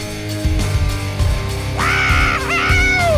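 A loud, drawn-out scream in a video game rises and wavers over a dense game soundscape and lasts a couple of seconds, ending with a falling pitch.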